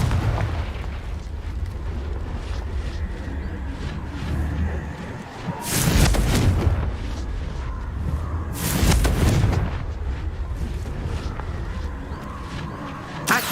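Confringo fire spell blasts in Hogwarts Legacy: two loud, bursting explosions about three seconds apart, each a short roaring crack over a steady rumbling background.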